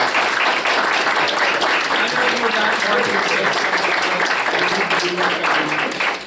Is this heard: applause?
yes